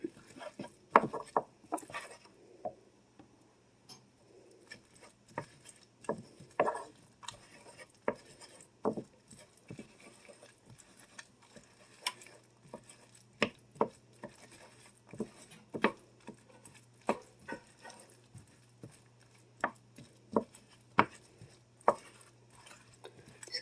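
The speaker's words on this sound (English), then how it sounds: "Just keep mixing the beef and the onions together." A spatula scrapes and taps against a pan while ground beef and onions are stirred together, making irregular clicks and knocks over a faint hum, close by and with no voices.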